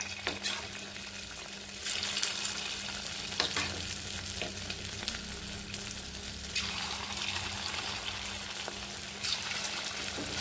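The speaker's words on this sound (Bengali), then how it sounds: "একটা একটা করে চিকেন এখানে ফ্রাই করে দিলাম।" Marinated chicken pakora pieces frying in white oil in a wok over a low flame, giving a steady close crackling sizzle throughout with occasional louder bursts of spattering.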